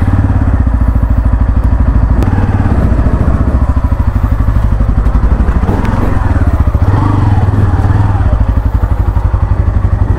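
Motorcycle engine running steadily while riding toward Bakkhali at sunrise, a loud close continuous engine throb with rhythmic pulsing and occasional clatter and thumps throughout.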